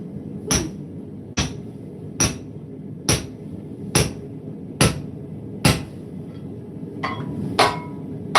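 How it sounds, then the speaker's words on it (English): A lighter forging hammer trues up the peen of a hot hammer head, giving about ten evenly spaced, sharp metallic strikes with short ringing decays. "take a heat with a lighter hammer and I'll just true up the peen"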